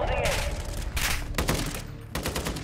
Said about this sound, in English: We're getting shot from different places.